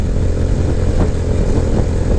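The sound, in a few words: motorcycle engine running in gear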